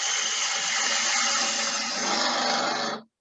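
A bowl gouge with an Ellsworth grind takes a continuous peeling cut on a wood lathe, producing a steady, close, rasping hiss of shaved wood that stops abruptly.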